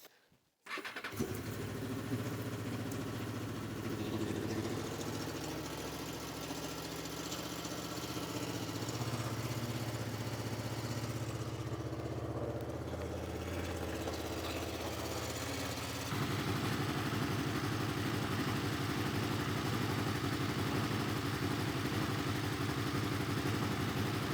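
A Yamaha-style 800cc X Cross Runner motorcycle engine starts and settles into a steady, throbbing idle up close, running evenly with a slight shift in tone partway through.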